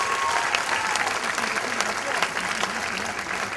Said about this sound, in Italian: Un grande applauso a loro